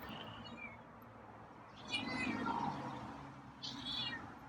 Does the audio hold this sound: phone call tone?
no